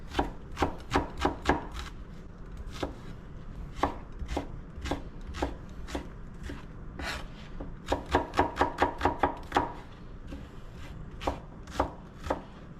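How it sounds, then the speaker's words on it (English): A knife dices shallots on a cutting board in bursts of quick, sharp taps, with short pauses between the runs of cuts; close and clear, no talking. "I got a couple of shallots here. We're going to dice those up."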